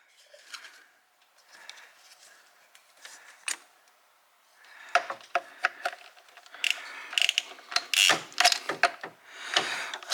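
A swivel head ratchet works on ignition coils and spark plugs in the 3.6L engine bay of a 2014 Buick Enclave with 200K miles, giving close, irregular bursts of ratcheting clicks and metallic rattles with short pauses between them.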